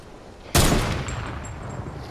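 A single loud, close gunshot in the video game Fortnite, with a sudden blast followed by a long fading rumble and no talking.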